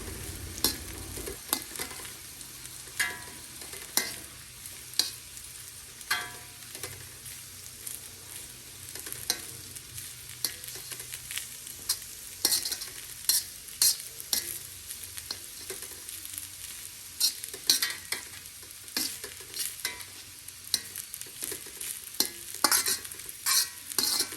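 Beaten rice (chiura) and potatoes stirred and fried in a pan for a Nepali snack, with steady scraping strokes and soft sizzling repeating throughout, close and moderately loud, with no talking.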